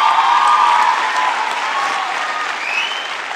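Steady, loud audience applause filling a hall at the closing ceremony of the Fajr film festival, continuous dense clapping with a faint whistle or cheer rising near the end.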